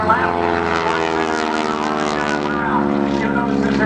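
A Susan Dacy aerobatic propeller airplane accelerating at an airshow, a loud, steady droning engine and prop roar that carries throughout, with an announcer talking over it.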